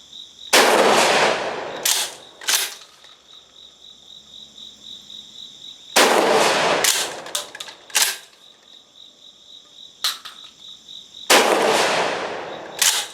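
A Gforce GF12P shotgun, just repaired, is fired at targets outdoors: loud, sharp blasts in small clusters with pauses between them, over a steady background of chirping insects.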